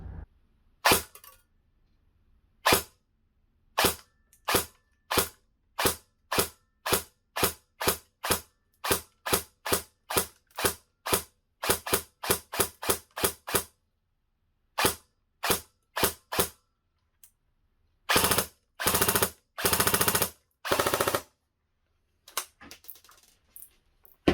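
A Double Eagle UTR45 airsoft gun fires 0.2 g BBs through a chronograph. Sharp single shots come one by one at uneven spacing, then in quicker clusters and a few short bursts, close and loud against silence.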